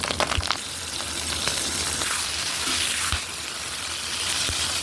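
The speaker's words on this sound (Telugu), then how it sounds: "ఇందులోనే పచ్చిమిర్చి కూడా ఫ్రై చేసుకుందాం." Green chillies frying in hot oil after mint for a Telangana-style pudina pachadi, giving a steady close hiss of sizzling with a few sharper crackles early on, no talk.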